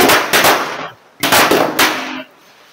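Diwali firecracker bombs, one thrown by hand, going off outdoors as two loud bursts, each a sharp crack followed by roughly a second of crackling rumble and a brief quiet gap between.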